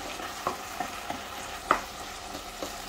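A callaloo and saltfish mixture cooks in a pan with a soft, steady sizzle, broken by a handful of light clicks and scrapes from stirring, close by and without talk.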